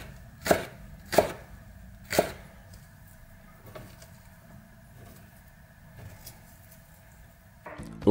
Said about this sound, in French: On enlève une couche de peau et on émince finement.